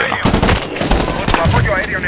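Rapid gunfire from a Medal of Honor: Warfighter battle rattles loud and close, with dense bursts that run almost without a break, while a voice speaks briefly over the shooting.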